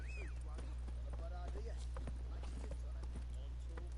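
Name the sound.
horse Roach's hooves galloping in a video game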